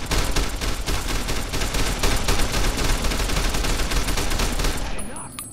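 Machine gun fire in Fallout New Vegas rattles without a break for several seconds, a loud, dense stream of rapid shots that cuts off abruptly at the very end.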